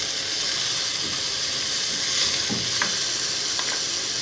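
Dal being stirred in a hot frying pan for a chana gosht dish, a steady close sizzle and hiss with occasional soft scraping and clinks of the spoon, no talking.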